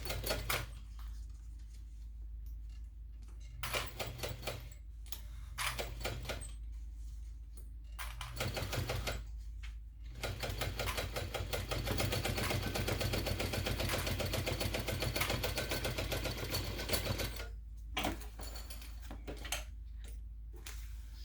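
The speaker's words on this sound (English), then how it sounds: "I always backstitch over these seams just to reinforce it." A sewing machine backstitches seams on a messenger bag, running in several bursts of rapid mechanical clatter separated by short pauses, with one long stretch of continuous stitching in the middle.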